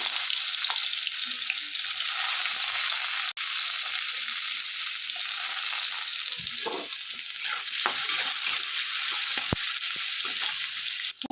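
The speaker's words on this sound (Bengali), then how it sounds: "এখানে আমি যে আলুটা ভেজেছিলাম সেই তেলেতেই হোঁপাগুলো ভেজে নেব" Green chilies sizzling in hot oil left over from frying potatoes, a steady close hiss with occasional pops and crackles throughout.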